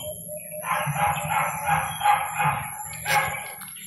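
Unseen dogs bark nearby in a quick run of several yaps, fairly close and alone over a faint steady hum.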